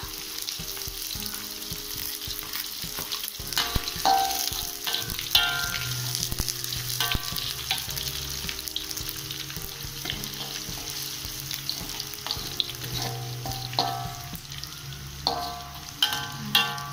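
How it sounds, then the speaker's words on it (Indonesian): Sliced and ground spices fried with garlic in hot oil, sizzling steadily and close up while a utensil stirs and scrapes the pan in irregular bursts. "Kita aduk-aduk sampai wangi, lalu goreng bawang putih."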